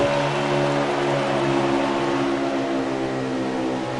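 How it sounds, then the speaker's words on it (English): Race car engine on an oval track during the HAAS 200 at Michigan, a steady loud harmonic drone whose pitch eases gradually downward as it slows, with no talk over it. "I just heard the engine start slowing down."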